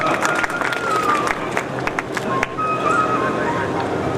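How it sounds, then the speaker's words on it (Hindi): An audience claps at a community district convention, a steady patter of applause with crowd murmur, moderately loud and sustained throughout. "ताली बजाओ जोरदार।"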